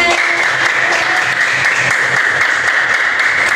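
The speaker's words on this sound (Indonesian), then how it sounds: "Tepuk tangan untuk kita semua" Classroom applause from students at the close of a lesson, a steady dense patter of many hands clapping continuously at an even level throughout.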